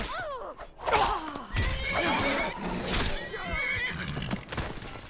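A unicorn neighs and whinnies repeatedly during a fight in a video game, loud, shrill calls with hoof clip-clops, under occasional speech.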